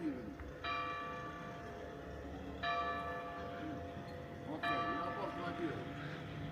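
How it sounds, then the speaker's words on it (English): Church bells ringing at noon in an Italian village, heard from a distance in three successive peals over steady outdoor background noise. "church bells are in full swing because it's 12 o'clock"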